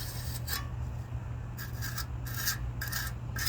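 Wet cement being smoothed by hand in a garden stone mold, a close scraping rub in short repeated strokes over a low steady hum.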